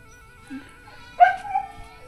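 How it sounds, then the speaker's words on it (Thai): A single short dog bark or yelp, fairly close, preceded by a faint soft whine, with quiet surroundings. "หมามันเห่า"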